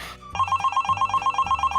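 A telephone rings in the Roblox game Brookhaven, a loud electronic ringtone pulsing in quick, even bursts right after a brief noisy onset.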